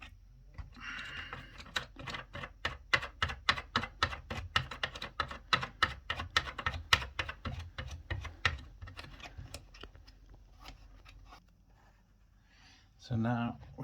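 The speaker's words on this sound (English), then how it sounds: "I'm just tightening up these bolts" Plastic headboard bolts being hand-tightened give off a long run of rapid, close, dry clicks in a steady rhythm that slow and thin out before one louder knock at the end.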